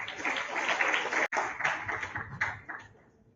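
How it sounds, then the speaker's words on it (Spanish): A short burst of audience applause for a speaker at an Ecuadorian Navy marine coastal environmental education event, many hands clapping together, fading out over a few seconds. "Fuertes los aplausos para nuestro siguiente ponente"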